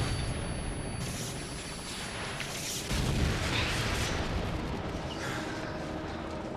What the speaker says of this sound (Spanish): entonces tiro una granada y de repente veo el cadáver bajar